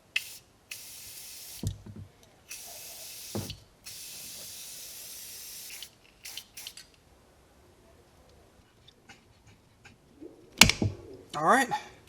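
A can sprays lubricant such as WD-40 or PB Blaster onto a car's loose shifter assembly, long steady hissing bursts close by, followed by a few short spurts, clicks and handling noises.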